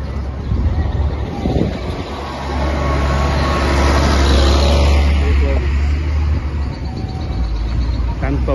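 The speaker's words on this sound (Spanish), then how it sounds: "Vehículos, camiones, gente" Passing cars and trucks on a busy roadside along a pilgrimage route, a loud continuous roar of traffic close by with swelling pass-bys, people talking faintly underneath.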